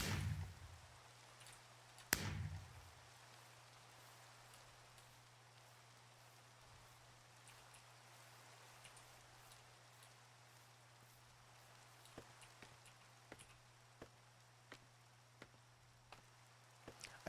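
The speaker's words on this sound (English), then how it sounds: "And it's going to rain on my special day?" Steady rain falls in Minecraft, a soft even hiss that runs throughout with a low hum beneath it and a few scattered clicks and ticks.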